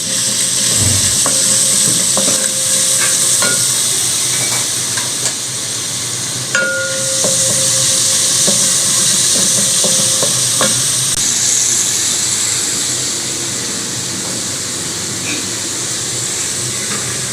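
Ginger garlic paste frying in a pan for Indian-style macaroni pasta: a steady, close sizzle with occasional stirring scrapes and clinks, no voices.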